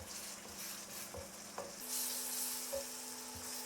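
Onions frying in a pan for a chicken rogan josh curry, a steady close sizzle with occasional soft stirring scrapes and a clink, no talk.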